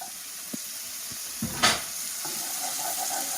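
Tomatoes dropped into garlic and onions sautéing in a pan, a steady sizzle with a few soft knocks and one brief louder hissing flare as they land.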